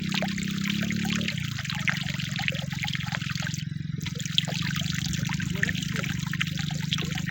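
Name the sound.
dirty water flowing through field channel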